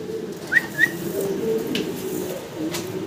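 Fancy pigeons coo in a loft, a low continuous murmur from several birds nearby, broken by a couple of short high chirps.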